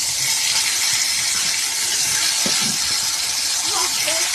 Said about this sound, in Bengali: বেগুন ভাজি করবার লিগে এখানে তেল গরম দিয়ে দিছি